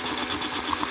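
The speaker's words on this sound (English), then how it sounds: "Sometimes you need to wiggle the drill a little bit to make it faster, to cut the outer" A stone drill bit grinds a hole into a glass beer bottle, producing a steady, close, gritty whir that holds level throughout, with a few faint squeaks near the end.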